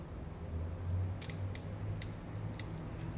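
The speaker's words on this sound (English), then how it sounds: "You can hear it ratcheting in place." A Tao Tao scooter timing chain tensioner ratchets into place with four sharp, separate metallic clicks over a low hum. The clicks are close and clear, with no voices.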